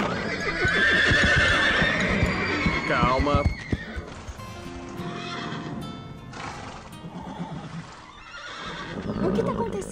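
Cartoon horses neigh and whinny loudly near the start, followed by hooves clip-clopping and shuffling, while people talk over the scene.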